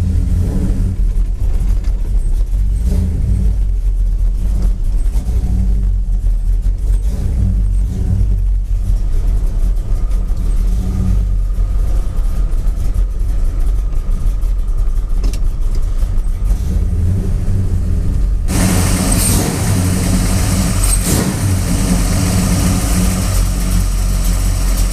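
A Chevrolet Nova engine runs in a garage while its carburetor is being adjusted. It makes a loud, steady low rumble throughout, which turns brighter and harsher for the last several seconds.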